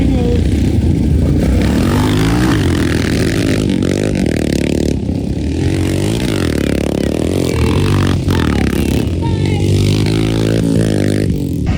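Dirt-track motorcycle race with engines revving and rising and falling in pitch as bikes pass, loud and continuous with crowd noise.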